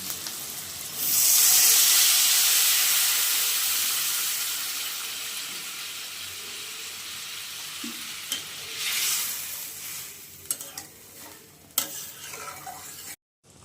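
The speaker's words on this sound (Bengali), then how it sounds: "জল ফুটে গেছে এখন কটা মরিচ দিয়ে দেব ভাজা মাছগুলো দিয়ে দেব" Pabda fish curry with potato and tomato gravy boils in a pan, opening with a loud, steady sizzle and hiss that slowly fades into softer bubbling with a few clicks and stirs near the end.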